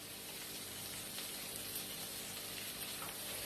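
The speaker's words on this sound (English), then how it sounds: "I'm going to fry this for a moment" Chaat masala and spices frying in a pan for aloo methi, a steady close sizzle with faint crackle running evenly throughout, no talking.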